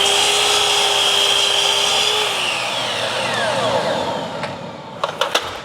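A power saw cuts a miter through wood picture-frame stock with a loud, steady, rough whine. The motor pitch sags partway through, and a few sharp knocks follow at the end.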